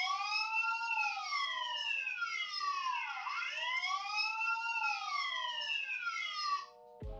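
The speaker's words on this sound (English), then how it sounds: "you can also set the camera to sound an alarm each time it detects motion." The motion-detection alarm of a Tenda CP3 IP camera wails loudly and continuously as a rising and falling electronic siren, then cuts off abruptly with a brief click.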